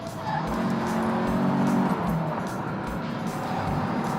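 A Porsche 914 driven on the road, its engine droning steadily up close with a rising then falling note and tire rumble, no talking.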